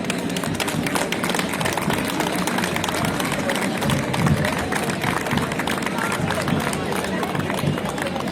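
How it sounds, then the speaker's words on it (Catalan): A large crowd at the Trobades festival ceremony in Canet d'en Berenguer in 2022 keeps up dense, steady applause for the whole stretch, with the murmur of many voices running beneath it. "demane un fort aplaudiment"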